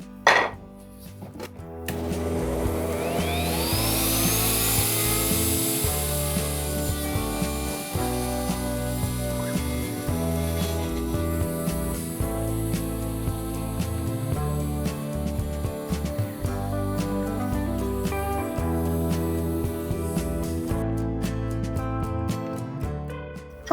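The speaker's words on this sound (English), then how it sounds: "here's our 2 pieces of wood after we've slotted them for our biscuits" Biscuit joiner cutting slots in pieces of wood, a loud close motor hum with repeated rough cutting bursts that runs steadily for about twenty seconds before stopping.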